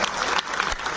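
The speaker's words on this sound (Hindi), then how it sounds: "एक बार जोर से ताली हिमाचल प्रदेश के लोगों।" A large crowd applauds loudly and steadily at a public gathering in Delhi, a dense continuous wash of clapping with no voices rising above it.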